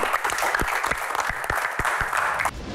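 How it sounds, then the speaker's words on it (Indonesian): An audience applauds for Pak Bolot, a Betawi comedian, at a Q&A comedy show: a steady wash of many hands clapping with a few sharper claps standing out, continuing for a couple of seconds before cutting off. "Baik tepuk tangan untuk Pak Bolot."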